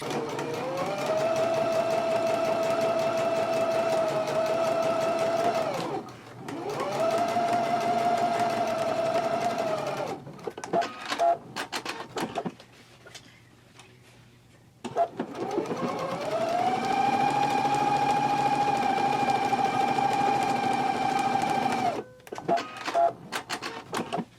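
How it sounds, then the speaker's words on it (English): A sewing machine stitching a jacket pocket facing along the seam line, running in three long, steady whirring bursts with short stops and clicks between them, close and loud. "we can go to the machine now and we can stitch along the sides, the lower edge, as well as the other side along the seam line"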